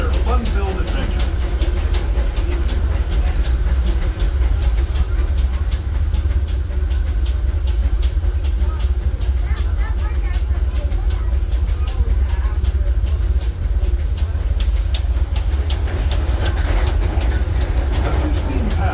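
Disneyland Railroad steam train carrying riders along its track past Critter Country, a steady low rumble and rolling rattle of the cars throughout, with a narrator's voice talking over it.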